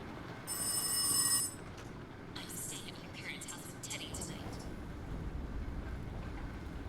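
A telephone rings in the psychological horror game Rise of Insanity, one loud shrill burst of ringing near the start, then a low rumbling ambience with faint clatter.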